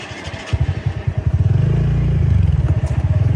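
A TVS Ntorq scooter ridden off-road, its engine note loud and close, rising steadily over a rough surface that adds clatter and scraping throughout.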